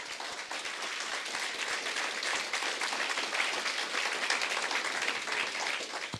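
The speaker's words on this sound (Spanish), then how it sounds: "Dele ese aplauso al Señor" A church congregation applauds during a sermon, with steady, dense clapping from many hands sustained throughout without talk.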